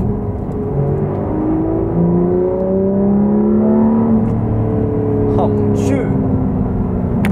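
A Porsche 911 GT3 RS revs hard toward 9000 rpm, its engine note climbing in rising sweeps inside the cabin while a person talks over it.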